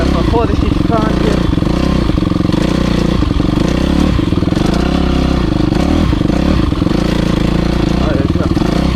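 A motocross motorcycle engine roars loud and close throughout as the bike rides through mud, its revs rising and falling steadily with rattling and scraping over the drone.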